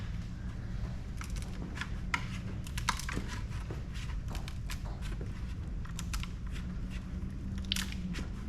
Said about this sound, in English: You hear the adhesive kind of break loose.